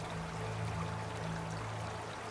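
Babbling water of a small stream fed by cold, clear snowmelt, a steady low trickling and pouring wash that runs continuously and fairly close, alone without any voices.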